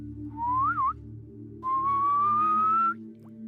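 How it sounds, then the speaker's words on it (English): Two clear whistled notes: a short wavering phrase, then a longer rising tone, over a steady low hum. "When the sun was setting, Heidi heard a whistle."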